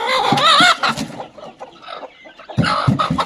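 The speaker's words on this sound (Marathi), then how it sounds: "ही बघा मित्रांनो ही अजून एक खुडूक कोंबडी" Another broody desi village hen clucks up close in a coop, a loud wavering cluck at the start, a quieter grumbling pause, then a fresh burst of short clucks, with no talking.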